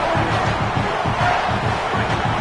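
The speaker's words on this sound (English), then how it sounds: "The roar of the crowd trying to fuel this defense to keep them pinned in their own end." A dense, continuous crowd roar from a packed stadium in a college football video game at South Carolina, loud and steady with no pauses.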